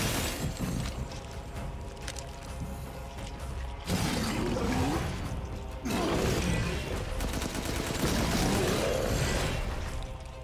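Gunfire in Resident Evil Village, loud bursts of shooting and crashing impacts coming in waves, with heavy combat noise and no talk.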